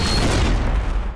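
Gunshot in an adult cartoon: a single loud, close boom with a heavy low-end thump that decays over about a second, with no voices over it.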